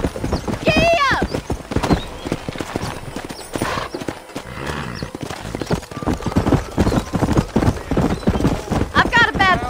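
A horse gallops in Red Dead Redemption, with rapid rhythmic hoofbeats throughout and loud neighs near the start and end, while people talk over the riding.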